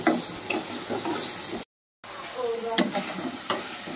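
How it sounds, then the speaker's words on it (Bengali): Prawns sizzle in hot oil in a pan for jackfruit curry, with a steady crackling fry, a few sharp clinks of a spatula stirring, and a brief silent gap midway. "আর এদিকে চিংড়ি মাছ ভাজা হচ্ছে এঁচোড়ের জন্য"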